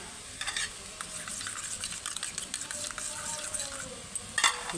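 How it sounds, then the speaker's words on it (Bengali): Spice powders stirred into a paste in a bowl with a spoon, soft wet scraping and mashing strokes in an irregular rhythm, close and fairly quiet, with no one speaking. "একটা বাটিতে সমস্ত মশলা নিয়ে দেখো একটা পেস্ট বানিয়ে নিচ্ছি"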